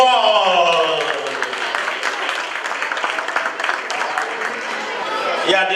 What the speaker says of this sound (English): Big round of applause for Esyda.